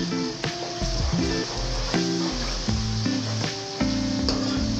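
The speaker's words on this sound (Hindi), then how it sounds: "अब हम इसको अच्छे तरीके से भूनते हैं" Ginger garlic paste frying with onions in a pan for an aloo chicken curry, a steady sizzling hiss running under prominent background music.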